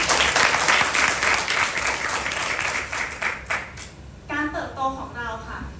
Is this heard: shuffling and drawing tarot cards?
no